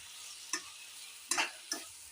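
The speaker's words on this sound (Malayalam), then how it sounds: "സാധനങ്ങളെല്ലാം നമുക്ക് വഴറ്റാം" Spices and other ingredients being sautéed in a pan, with a faint sizzle broken by three quick scraping stirs, close by and alone.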